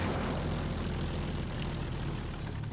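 Steady propeller plane engine drone from the Just Cause 3 video game, a continuous broadband hum holding even and loud throughout without pauses.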